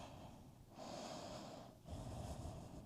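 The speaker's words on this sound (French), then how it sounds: "Inspire, expire." Slow breathing in and out during a yoga session for back and hip mobility, with two long breaths heard close up and no talking.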